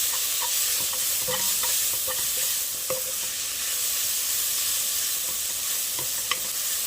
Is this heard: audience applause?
no